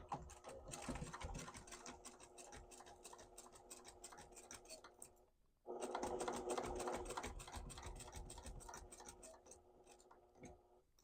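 Sewing machine with a regular quarter-inch presser foot stitching along the edge of a quilted fabric cord organizer, rapid mechanical chatter in two bursts split by a brief pause, quiet and close.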